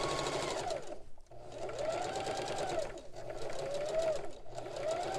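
Sewing machine stitching a Christmas table runner, fabric edge folded over muslin, running in steady close-up bursts with short pauses between runs.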